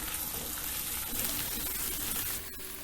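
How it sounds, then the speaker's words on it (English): Raw papaya pieces sizzle in a hot pan, a steady soft hiss that runs throughout and drops slightly toward the end. "Add in the papaya. Cook it for a minute."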